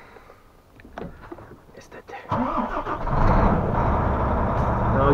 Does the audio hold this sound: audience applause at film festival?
no